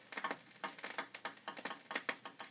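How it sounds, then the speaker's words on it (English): A ping pong ball drops and bounces in a quick series of light, sharp ticks that come close together, heard alone and fairly faint. "that sounded like you dropped a ping pong ball"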